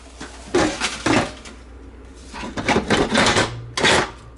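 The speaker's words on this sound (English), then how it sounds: "now let's get this pressure cooker lid on" Lid of a Ninja Foodi pressure cooker being fitted on, a burst of close clattering, scraping and clicking plastic-and-metal knocks in two busy groups with short pauses between.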